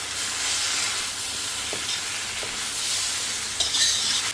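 Beef brisket sizzles in a hot pot with a dense, steady frying hiss at close range, broken by faint stirring knocks and a brief flare of crackle near the end.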